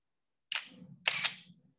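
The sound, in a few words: film camera focal plane shutter clicking at slow speed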